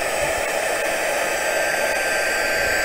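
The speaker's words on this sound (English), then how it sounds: "I'm gonna bring in this noisy thing here, and we are going to heat set this." A loud, steady blowing roar of a heat tool runs continuously without pause, with no voices present.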